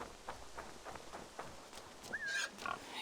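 A pig grunts and squeals in the video game Assassin's Creed Valhalla, with soft footsteps and faint grunts followed by a short, clear squeal near the end, quiet and close.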